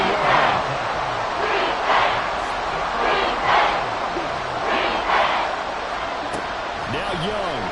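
A stadium crowd roars through a Seahawks at Patriots NFL football game, a loud, dense, sustained wall of cheering that swells in waves beneath a commentator talking over it.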